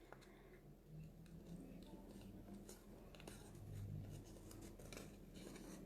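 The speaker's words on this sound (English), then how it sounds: "I'm just going to use my scissors to cut that out." Scissors snip a paper half circle for a handmade card, giving faint close crisp cuts in irregular bursts against quiet room tone.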